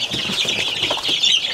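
Dark Brahma chicks, about three weeks to a month old, peep and chirp continuously in a brooder, a busy, steady chorus of high calls close by with no talking.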